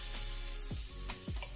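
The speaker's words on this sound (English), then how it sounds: "I'm just gonna saute my asparagus" Asparagus sizzles steadily in olive oil with garlic paste in a pan, a loud, close frying hiss with a few stirring scrapes and no talking.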